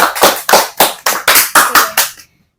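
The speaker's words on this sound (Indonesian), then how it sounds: "Tepuk tangan dulu dong" Clapping in a podcast studio after a student athlete from class 11D, a senior girls' shot put and discus competitor, introduces herself: about eight loud, evenly spaced claps from one or a few people close by, then silence.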